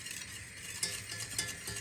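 A spoon scrapes and stirs a sugar mixture in a pot over heat, with a couple of soft knocks against the side over a steady hiss.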